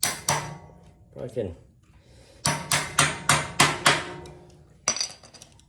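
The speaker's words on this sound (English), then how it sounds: "I think maybe I can get the hammer on there." A hammer strikes metal repeatedly while installing a new axle on a 1962 Shasta Compact vintage camper: a few scattered knocks, then a rapid run of six sharp, ringing blows and one last hit, close by, with brief talk early on.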